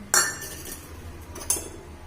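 Two bright clinks of metal utensils knocking together while being washed, spaced about a second apart, close by over a quiet background.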